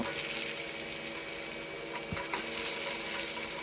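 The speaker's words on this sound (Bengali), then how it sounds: "আমি ওই মাছ ভাজার তেলের মধ্যেই কালো জিরে ফোড়ন দিয়ে ডাঁটা আর আলু দিয়ে দেব" Drumstick pieces and potatoes fry in leftover fish-frying oil with nigella seeds, giving a steady close sizzle with a few stirring scrapes and no talk.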